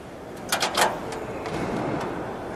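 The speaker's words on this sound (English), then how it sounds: "So let's open this hood." The hood of a red 1932 Ford three-window street hot rod being opened, a few quick metallic clicks and scrapes followed by a softer shuffle, close and brief.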